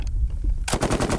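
Machine gun with a reciprocating barrel firing a short, rapid burst outdoors, loud and close, cutting in abruptly after a moment of quieter ambient noise.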